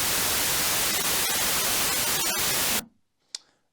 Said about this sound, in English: because it's white noise, you can't tell